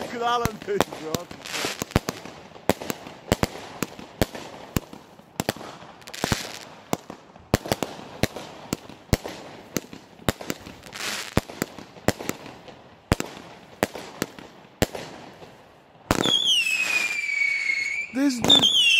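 Rapid, irregular bangs from a compound cake firework pop in a long sequence, then give way to a whistling, crackling burst near the end; voices speak occasionally.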